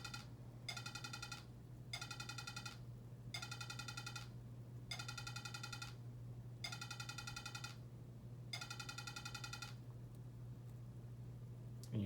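A MIPS processor demo outputs a buzzy electronic tone whose pitch follows the current instruction, arriving in regular bursts of about a second with short gaps, faint over a steady low hum.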